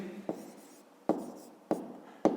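A pen writes a calculation by hand, four short distinct strokes or taps spaced apart against quiet background hiss.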